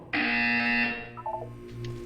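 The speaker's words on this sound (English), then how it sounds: "When you hear the buzzer, look down at the floor." Buzzer in the video game Portal 2 sounds a loud, harsh electronic tone for about a second, then cuts off, followed by faint mechanical clicks.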